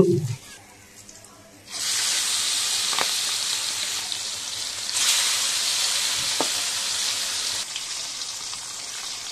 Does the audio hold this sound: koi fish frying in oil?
yes